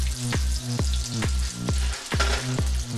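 Onions and steak frying on a griddle for a cheesesteak, giving a steady close sizzle broken by regular scraping strokes of a spatula about every half second.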